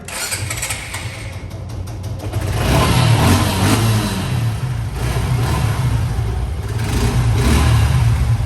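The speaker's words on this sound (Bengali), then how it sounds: "বাইকটা আমি একটু স্টার্ট করে আপনাদেরকে শোনাই" A motorcycle in fresh condition at a used bike dealership starts up and revs, its engine rumbling loud and close, swelling in two stronger bursts of throttle.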